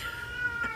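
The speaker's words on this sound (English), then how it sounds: "My cat is in heat, and I'm sorry you gotta hear her." A house cat in heat gives a single faint, drawn-out meow indoors, with a brief sharper rise near the end.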